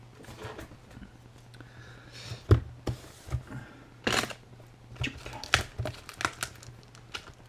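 A Razer mouse mat's packaging box is opened up close, with a quiet run of crinkling, rustling and short tearing or scraping handling noises in irregular bursts and no talking.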